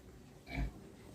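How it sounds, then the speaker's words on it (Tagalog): A single short, low grunt from a pig in a piggery, close by, against a quiet background. "Yan, ang mga malalaki kong baboy nakakain na rin."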